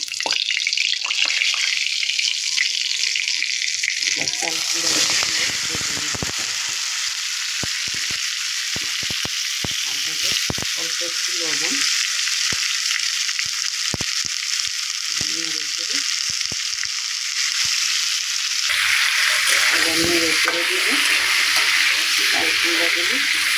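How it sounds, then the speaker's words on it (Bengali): Cumin seeds hiss and crackle in hot oil in a pan while a thin beef and ash gourd curry is being cooked; a loud, steady, close sizzle with small spattering bursts runs throughout. "তেল বসিয়ে গরম করে নিয়েছি এই তেলে একটু জিরা দিয়ে দেবো"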